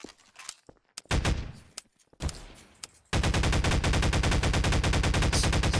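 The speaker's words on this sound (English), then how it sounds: "Looks like you're using the pulse rifle." Rapid automatic pulse rifle fire from Garry's Mod Trouble in Terrorist Town, a loud steady stream of shots filling the second half after scattered earlier shots and impacts.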